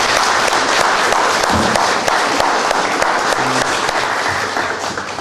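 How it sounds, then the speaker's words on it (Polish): Dense, steady applause from an audience at a final gala of an art fair in Mszana Dolna, honouring the artists, with a few low tones sounding briefly underneath as it slowly eases near the end. "Brawa dla nich za wytrwałość"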